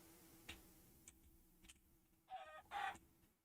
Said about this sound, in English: Oh, I just murdered a chicken.